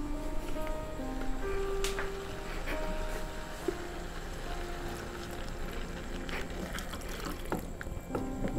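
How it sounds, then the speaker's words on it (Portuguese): Water poured into a cooking pot in a kitchen, a continuous liquid fill with clinks and light clatter of utensils mixed in, fairly close and steady throughout. "Eu vou colocar água. Não precisa ser muita água."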